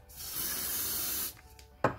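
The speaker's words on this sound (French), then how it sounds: "Et ensuite je viens ajouter du déo et mélanger." Deodorant is sprayed from a can onto bouncy-ball slime, a close, steady hiss lasting just over a second, followed by a few faint rubbing sounds and a sharp tap.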